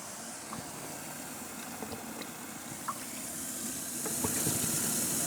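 Water running from a tap into buckets in a garage before washing a trash bin, a steady splashing fill that grows slightly louder, with faint clinks in the background.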